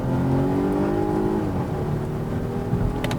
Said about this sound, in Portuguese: só vou tirar o pé do freio e acelerar